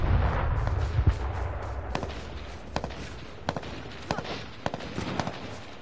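AK-47 gunfire in a video game, a series of sharp separate shots spaced about a second apart after a low rumbling start, crisp and moderately loud with no talk over them.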